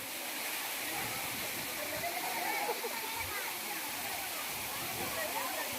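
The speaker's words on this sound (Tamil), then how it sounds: "அவ்வளோ வேகமாக வந்து அந்த அருவி கொட்டுது பாருங்கள்" Thirumoorthy falls pour down forcefully, a loud, dense, continuous roar of crashing water heard close up, steady and unbroken from start to finish.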